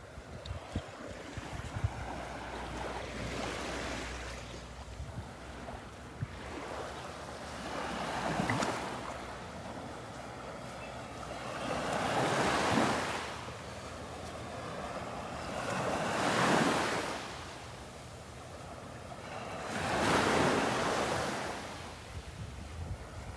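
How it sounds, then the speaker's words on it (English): Ocean waves on Vanderbilt Beach, a calm shore, roll in and wash up the sand in slow swells every few seconds, with a steady background hiss of surf and light wind rumble on the microphone. "Just love watching the waves"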